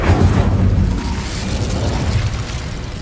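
Incendio fire spell cast in Hogwarts Legacy, a loud, roaring blast of fiery rumble that bursts at once and keeps booming for several seconds.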